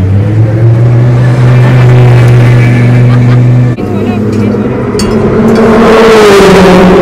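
A Lamborghini drives past at the Spa-Francorchamps circuit, a loud close engine note that holds steady and then shifts as it passes, with another car following, while people talk over it.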